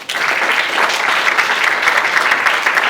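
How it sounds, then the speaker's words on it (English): An audience at a youth entrepreneurship competition applauds steadily, a dense, loud wash of many hands clapping that continues without a break from start to finish. "enjoy the applause"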